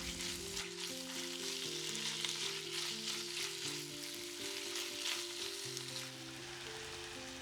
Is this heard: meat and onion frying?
yes